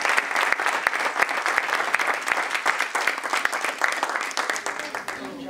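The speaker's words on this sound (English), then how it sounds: "Let's have a nice round of applause for Zack and Jeff." Steady applause from an audience at a Hall of Fame event honoring two guests, dense clapping throughout with a few sharper claps standing out, easing slightly at the end; voices murmur underneath.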